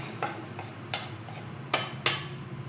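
Scattered metallic clinks and scrapes of a utensil against a pan, a few sharp taps spaced irregularly over quiet background.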